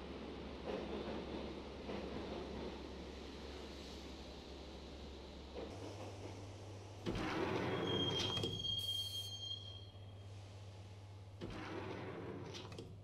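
Subway train ride in the PC game Max Payne: a continuous rumbling rail drone with a sustained high wheel squeal partway through and bursts of louder clatter, no talk.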